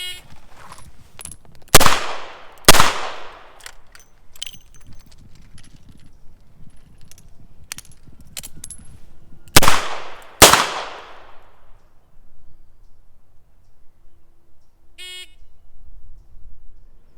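A Smith & Wesson 686 revolver fires during a timed police pistol qualification stage: two pairs of sharp, loud shots spaced several seconds apart, with handling clicks and quiet between them.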